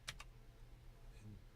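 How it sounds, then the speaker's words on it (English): Fingers typing an email on a computer keyboard: a couple of sharp, close key clicks at the start and a softer click later, set against a quiet, low hum. "I'm typing an email."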